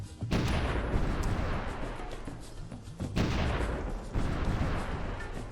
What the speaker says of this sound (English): So there's some of the ships bombarding that.